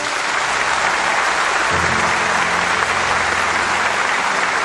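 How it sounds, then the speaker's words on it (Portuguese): Dense, loud, continuous applause from a church congregation, a steady wash of many hands clapping with a low murmur of voices beneath it. "Aplauda Jesus."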